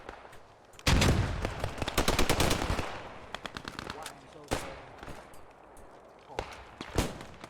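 Machine gun fire in the Post Scriptum battle game, a long loud burst of rapid automatic shots followed by scattered shorter bursts and single cracks, some nearer, some more distant.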